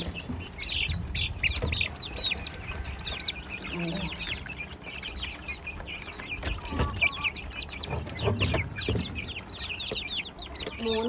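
A group of hens and chicks clucks and squawks nearby, busy overlapping calls continuing throughout, with a voice speaking briefly underneath.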